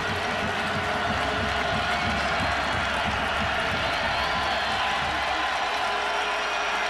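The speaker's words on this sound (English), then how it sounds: "Well, how about this Bowling Green crowd, huh? Wow, they are raucously wild," Raucous Bowling Green college football crowd roaring and cheering in a stadium, a dense, sustained wall of noise with no letup from start to finish.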